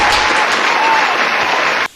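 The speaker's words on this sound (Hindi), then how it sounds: "एक बार दोबारा ताली ठोको इनके लिए" An audience claps together at a live stage show, a dense burst of applause that stops abruptly after about two seconds.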